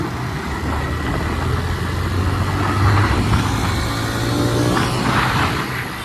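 Honda CB 125 Hornet and TVS Raider 125 motorcycles accelerating together in third gear from about 20 to 40 km/h, a steady, fairly loud engine drone that holds and swells slightly throughout with no talking.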